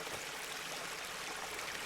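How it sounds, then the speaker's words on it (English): Water runs steadily along a riverbank, a soft, even trickling rush heard alone at low volume for its whole length. "the sound of someone drinking water by the riverbank"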